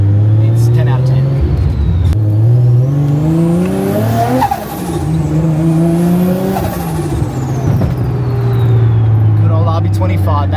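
A car with an RB25 engine pulls hard on the street, its engine note climbing and dropping through gear changes in a loud, close, sustained roar, with a tire-squeal hint and people talking over it.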